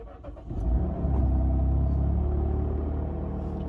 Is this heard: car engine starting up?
yes